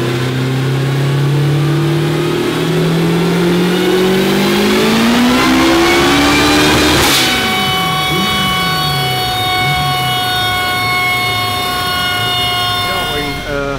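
A turbocharged Honda Integra B18 engine revs hard on a dyno, pitch climbing steadily to a peak, then falling back and settling into a high, steady whine, loud and close throughout.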